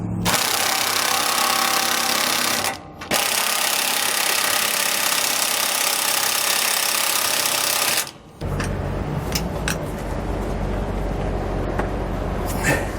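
U-bolt nuts are tightened on the steering of a 2007 Fleetwood motorhome with a power tool. It gives a loud, continuous whirring burst that cuts out briefly twice, then shifts to a rattling, clattering run.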